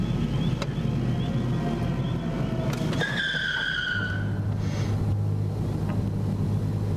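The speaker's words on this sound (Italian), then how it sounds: "Oddio, è la macchina di Robby." Robby's car arriving, a loud close engine with a brief tire squeal and a rising whine, continuous throughout with no talking.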